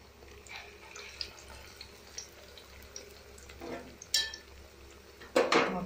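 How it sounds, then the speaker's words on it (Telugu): Vada batter with onion, cumin and green chilli is mixed in a kitchen, giving soft scattered clinks and scrapes of utensils against a bowl, with a few sharper clatters near the end over a low background hum. "ఇవన్నీ మనం మిక్స్ చేసి మొత్తం ఇప్పుడు మనం వడల కింద వేసేద్దాము."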